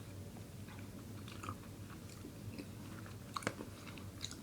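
Mike & Ike original fruit chewy candy is chewed close up, soft sticky mastication with a few faint crunchy bites, quiet and alone without talking.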